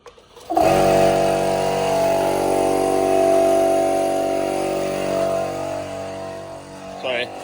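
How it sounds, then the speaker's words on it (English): A mini air compressor for inflating a tyre starts abruptly and runs with a loud, steady, buzzing motor drone, then cuts off near the end; a voice is briefly heard. "Alright, got my mini compressor. Get this plugged in over here."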